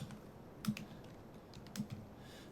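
Quiet typing on a computer keyboard while writing HTML text: a few faint, separate key clicks, with two slightly sharper taps, against a soft room hush and no talking.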